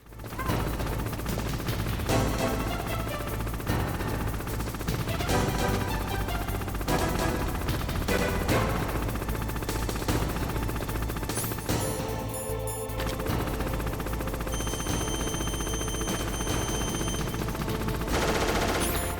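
Rapid bursts of video game gunfire in Metal Gear Solid, with a helicopter gunship fight, keep up a dense, loud rattle throughout, broken by occasional heavier blasts and clanging impacts.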